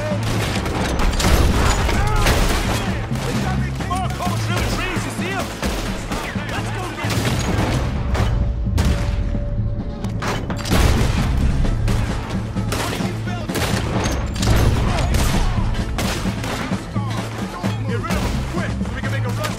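Heavy gunfire rages through a video game train robbery shootout against French soldiers, with dense volleys of overlapping shots and booms filling the whole stretch while voices shout over the battle.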